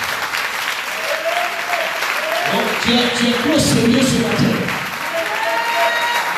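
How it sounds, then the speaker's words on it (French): Church congregation at a Sunday service, clapping and cheering in a broad, loud burst that swells in the middle. A voice speaks over the crowd throughout. "Donne-moi une fois d'acclamation ce matin"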